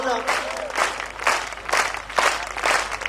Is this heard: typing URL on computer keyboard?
no